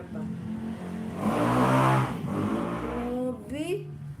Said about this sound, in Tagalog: Grabe yung motor na yun.